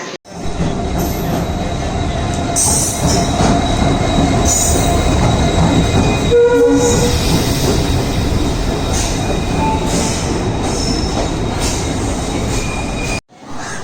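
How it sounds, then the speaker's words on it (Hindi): Goa Express passenger train pulling into Madgaon station, a loud continuous rumble of rolling railcars with clacking wheels and sharp metallic squeals, steady throughout with no talk. "पहले आप एंजॉय कीजिए ट्रेन का अराइवल"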